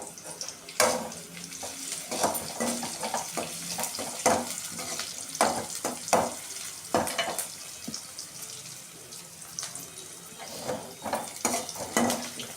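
Onions sautéing in a pan for Tamil kathirikkai kulambu, a steady close sizzle with scraping stirs and clinks of utensils against the pan, no talk.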